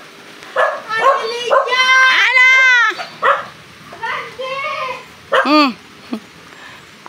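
A dog yips and barks in short high bursts at close range, mixed with a person speaking briefly.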